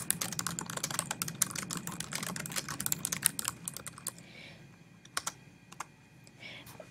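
Rapid clattering of keys on a computer keyboard, dense at first and then thinning into a few scattered, separate keystrokes.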